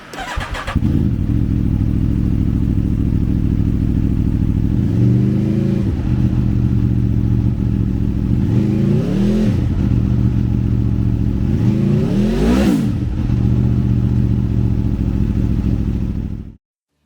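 A 2021 Aprilia Tuono V4 Factory 1100 with a 1077cc four-cylinder engine idles steadily and loudly up close, rising in three separate throttle blips before cutting off abruptly at the end.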